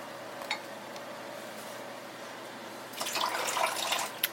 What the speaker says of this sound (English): next we're going to add 9 cups of water into the crock pot